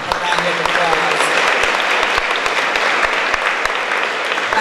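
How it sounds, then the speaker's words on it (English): A crowd claps steadily and loudly throughout, a dense wash of applause with some individual claps standing out. "Please give Rico a round of applause."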